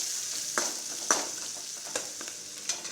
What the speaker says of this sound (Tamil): வெங்காயம் பச்சை மிளகாய் நல்லா வதக்கிக்கலாம்.